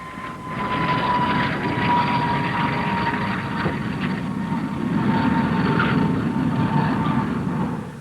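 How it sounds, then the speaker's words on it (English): A de Havilland Comet turbojet airliner flying past, heard as a sustained roaring jet whine with a steady tonal hum that swells in from silence and holds at moderate loudness. "here comes a turbojet airliner, the de Havilland Comet"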